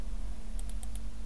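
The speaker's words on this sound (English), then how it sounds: "double click" Two quick mouse double clicks sound close together in a quiet room over a steady electrical hum, a pair of sharp ticks followed by another pair a moment later, no voices present.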